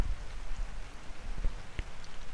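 Rain patters steadily on a tree-lined path, with scattered nearby drops and soft thuds over a continuous hiss.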